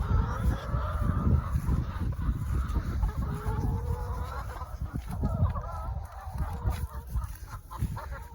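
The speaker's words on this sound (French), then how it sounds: "Vous voyez que les poules nous suivent" Hens cluck and honk around a mobile chicken coop, a lively overlapping chorus of close fowl calls that continues throughout over a low rumble of background noise.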